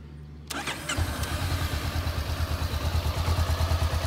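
A motorcycle engine, freshly serviced with an oil change, cranks and fires up after a brief quiet moment, then settles into a steady, throbbing idle close by with no talk.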